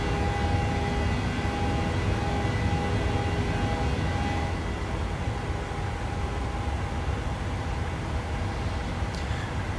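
Steady, loud jet engine roar of a PMDG 737 airliner in flight in Microsoft Flight Simulator, a constant broadband drone with a faint tonal whine, continuous throughout with no talk.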